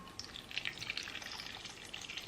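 Salad dressing poured over a bowl of salad, giving a faint, brief wet trickle and splatter with soft liquid ticks, close and quiet, no talking.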